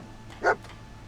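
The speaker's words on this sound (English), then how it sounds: "Hey, what'd you find, dog?" In the game Fallout 4, a dog gives one short bark, fairly close, rising briefly above a quiet background hum.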